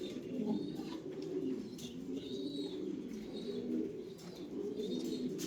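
A male pigeon coos repeatedly at a pigeon farm, soft low rolling calls in a steady rhythm, fairly close but quiet, with faint chirps and wing rustles around it.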